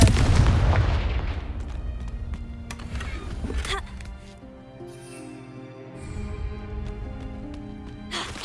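A Confringo explosion spell in Hogwarts Legacy bursts with a loud, deep boom at the start, then fades into lower rumbling game sounds with a few sharp hits and occasional voices.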